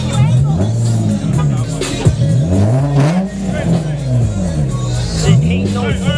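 An Infiniti G35 Coupe engine revs repeatedly at a car meet, with rising and falling pitch sweeps over a crowd's chatter and voices talking nearby.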